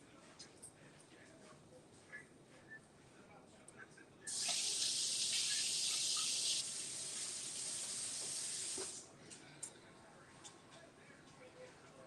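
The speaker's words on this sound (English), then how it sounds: "let me rinse my knife off" A kitchen tap runs over a knife being rinsed, a steady loud hiss of water lasting several seconds that drops a little before shutting off, with quiet room noise around it.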